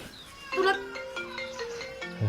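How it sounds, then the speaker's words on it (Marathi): A mobile phone rings with an incoming call, a melodic electronic ringtone of rising and falling tones playing for a couple of seconds, moderately loud and close, with a voice speaking briefly near the end. "ओय, फोन आलाय कुणाचा."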